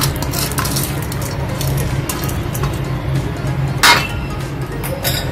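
A lid clinks down once onto a pot of boiling water holding washed sorghum (jowar) for puffing, a single sharp metallic tap over a steady rumble of bubbling.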